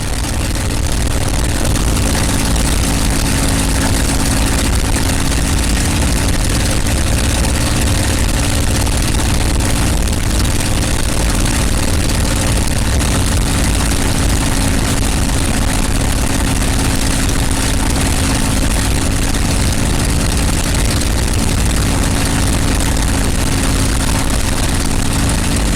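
A TF-51 (P-51) Mustang, Crazy Horse 2, runs its piston engine during a magneto check on the ground, a loud, continuous, heavy drone with a steady low throb filling the whole stretch, no voices over it.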